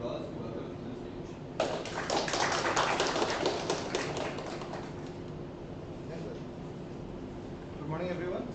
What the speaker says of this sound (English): Please join us in extending the warmest applause to welcome him to the stage.